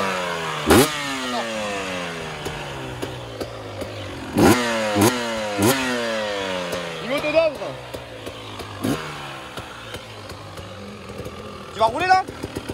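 Motocross bikes on a dirt track at an evening cross session, engines revving up and down in repeated rising whines with a few sharp throttle bursts, under excited talk from riders nearby.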